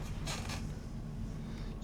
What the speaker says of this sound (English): Squeaky chair, do apologise.